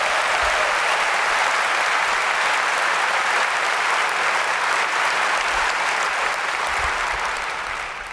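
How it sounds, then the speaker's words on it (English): Sustained applause from a large audience honouring staff and faculty at a 2024 university welcome ceremony, a dense steady roar of clapping that holds for the whole stretch and tapers slightly at the end. "How about a round of applause for these staff and faculty?"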